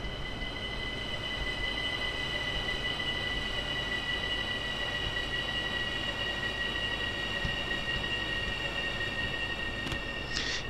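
An ÖBB 4024 Talent electric multiple unit runs in Train Simulator 2019 on the Arlbergbahn as a regional express approaching a platform, with a steady loud rolling drone and a high sustained wheel squeal, plus a brief clatter near the end.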